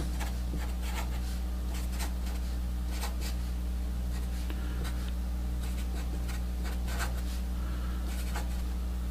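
Pen or marker writing out a math equation on paper or a board, with steady scratchy strokes in short bursts over a constant low hum, close and fairly faint, no talking.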